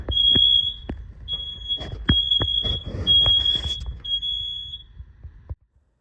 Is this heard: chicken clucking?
no